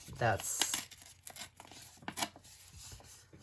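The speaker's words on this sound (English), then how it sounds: "if you don't like your edges super straight, you can tear by hand as well" Fabric is torn by hand for a scrappy bag tag, giving short, close ripping and crinkling sounds in a few quick bursts with quiet gaps between.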